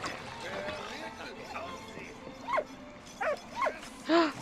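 A puppy in the video game Valiant Hearts gives a few short, high yips and barks in quick succession over a soft ambient background, with faint talk underneath.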